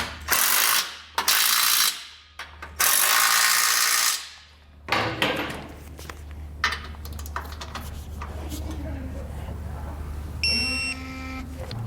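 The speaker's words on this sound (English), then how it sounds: "we can come back, tighten them down, and torque them to the amount specified in our instructions" A ratchet tightens and torques bolts on a Blue Ox base plate kit on a 2013 Jeep, loud close bursts of rapid clicking followed by quieter ratcheting and tool noise, ending with a short click.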